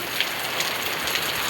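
Steady rain pours during the first May monsoon shower in Konkan, a dense continuous hiss of drops on surfaces with a few slightly louder splashes, close and even throughout.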